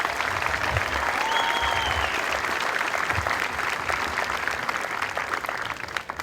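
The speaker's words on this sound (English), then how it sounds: "how about one more round of applause for our MTIs?" A large audience applauds at an Air Force Basic Military Training graduation ceremony, a dense steady roar of clapping held for about six seconds before tapering slightly at the end, with a faint whistle or cheer riding over it.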